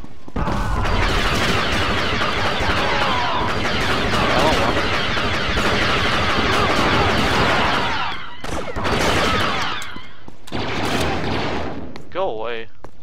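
Heavy gunfire and explosive blasts in a Star Wars Battlefront 1 match on the Korriban modded map, loud and dense for several seconds, then broken into separate bursts, with a voice speaking over parts of it.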